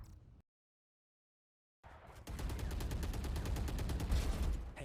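Rapid automatic gunfire in a first-person shooter video game, a dense continuous burst of shots at steady volume that starts after a brief silence.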